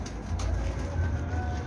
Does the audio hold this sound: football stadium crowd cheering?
no